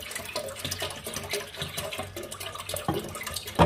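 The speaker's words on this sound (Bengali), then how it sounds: "এই জন্য একটু ঢেলে নিচ্ছি পাতিলে।" Liquid for payesh is poured into a cooking pot, making a steady, close splashing and trickling gurgle that runs without pause and ends in a brighter splash.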